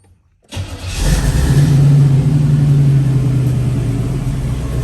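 A 1936 Chevy with a swapped-in 350 engine cranks briefly, catches, and settles into a loud, steady rumbling idle close by, with an exhaust leak.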